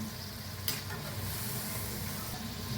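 Crispy bitter gourd snack frying in oil over a low gas flame, giving a steady, even sizzle close by with one faint clink early on and no talking.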